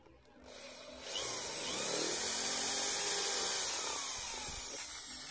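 Power drill boring through a glued knife scale made from old water pipe: a steady, loud, high whine that rises as the bit bites and holds for several seconds, close by.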